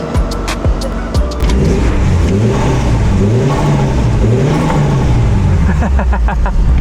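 A turbocharged Japanese auction car, updated Evo-style, revs its engine up and down in loud, wavering surges, with road and cabin noise throughout and a few sharp clicks near the start.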